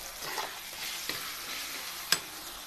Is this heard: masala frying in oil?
yes